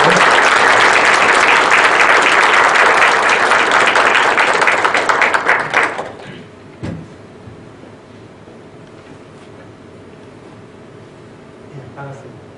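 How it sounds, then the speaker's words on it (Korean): Audience at a public humanities lecture gives a warm, loud round of applause for a professor, sustained for several seconds before fading out into quiet room sounds and scattered small noises. "교수님께 뜨거운 박수."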